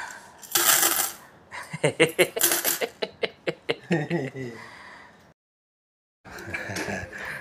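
Saved-up loose change, including Papua New Guinea toea coins, clinking and dropping in a quick rattling run of metallic hits, then a short pause before more jingling resumes, close and bright.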